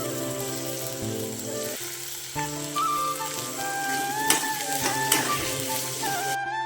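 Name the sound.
onions and green chillies sizzling in oil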